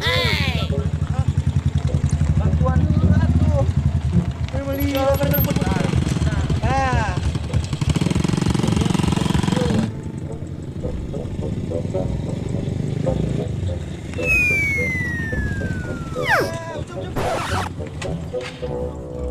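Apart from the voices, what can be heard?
motorcycle engine being started and running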